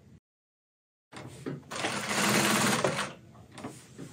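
A Juki LZ-2280 industrial zigzag sewing machine runs in a steady whirring burst after a moment of silence, rising to a loud sustained hum, then slowing and stopping with the needle up.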